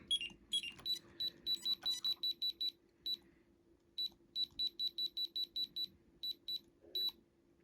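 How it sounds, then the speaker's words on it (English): An electronic toy beeps in rapid, evenly spaced high-pitched bleeps, running in bursts with short gaps, fairly quiet and close. "Just beeping away, don't mind me."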